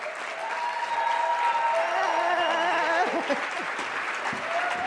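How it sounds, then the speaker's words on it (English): Steady applause from a crowd, sustained and fairly loud throughout, with a few cheers mixed in. "So, I'd like you to give a big round of applause to Laura Sylva."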